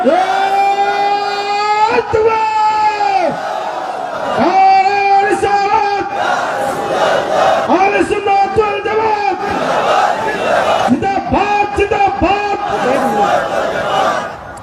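A large gathering at a religious sermon shouts a slogan response in unison, loud repeated chanted cries in waves with a lead voice calling between them.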